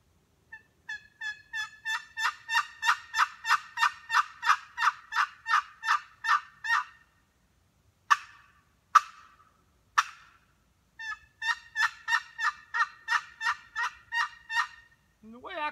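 A long box turkey call of cherry over sycamore plays loud, clear runs of rhythmic yelps, then a few sharp single cuts, then another long yelping run, with no other sound around it.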